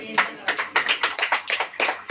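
Congregation at a church service clapping hands in a steady rhythmic beat of about a dozen claps, with voices mixed in.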